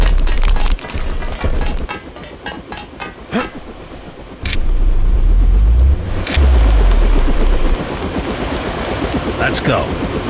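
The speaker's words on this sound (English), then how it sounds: "Copter on the roof of the Ton." Helicopter waiting on a rooftop in the Deus Ex video game, a rumbling rotor and engine drone under voices and game effects, with the low throb growing stronger midway through.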